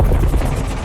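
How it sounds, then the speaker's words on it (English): A helicopter from the Battlefield 2042 trailer gives a loud, brief, throbbing rotor chop with rapid pulsing beats over a low rumble. "Helicopters are back. Choppers rule the air, guys."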